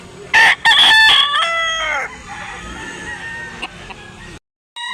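A white rooster crows loudly and close by at a chicken market, one long strained cock-a-doodle-doo, followed by softer clucking and chicken noises.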